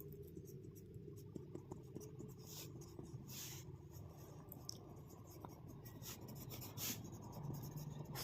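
Pen writing out a maths solution on paper, a faint, close scratching with short strokes and pauses, quiet and steady with no talk.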